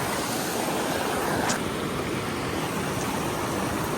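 Outdoor water at Madison, a steady broadband wash of water sloshing and lapping around bare feet, continuous and fairly loud with some wind noise on the microphone and no talking.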